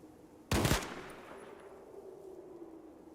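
A burst of rapid automatic gunfire from the tactical video game Fallout Tactics, one short loud volley followed by a fading echo and quiet background hum.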